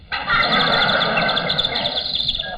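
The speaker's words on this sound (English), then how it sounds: "Gotcha, you naughty little canary." A canary sound effect for an old-time Australian radio drama, a rapid string of bright, high chirps and trills that starts abruptly and runs loud and close, thinning out toward the end.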